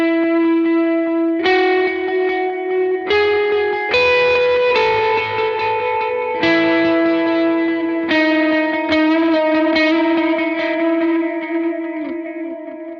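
Ambient electric guitar with a swelling, effects-laden tone, chorus, echo and reverb washing out slow sustained chords that overlap and ring into each other, loud and alone.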